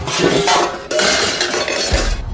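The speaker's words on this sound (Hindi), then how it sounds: "उसे बर्तन के गिरने की आवाज सुनाई दी।" A metal utensil falls inside a hut in a Hindi horror audio drama, giving a loud, close clattering crash with rattling metallic ringing that carries on for about two seconds.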